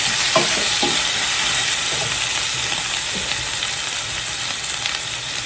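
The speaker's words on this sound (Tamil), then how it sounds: "இஞ்சி பூண்டு பச்சை வாசம் போக மட்டும் கொஞ்சம் நல்லா வதக்குவோம்." Ginger garlic paste sautéing in a pan for Jaffna-style chicken curry, a loud continuous sizzle with a few soft scraping stirs, close up and without talk.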